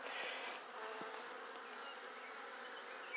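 Honeybees buzz at an opened hive of queen colonies, a steady, faint, dense drone that carries on throughout with no voices.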